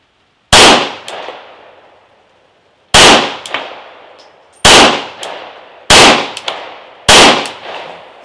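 Five loud, sharp pistol shots from a Rex Zero 1, close to the microphone, spaced a second or two apart with ringing tails and faint casing clinks after some reports, no talking.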